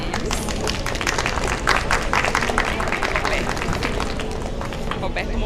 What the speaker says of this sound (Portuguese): palmas, por favor, para eles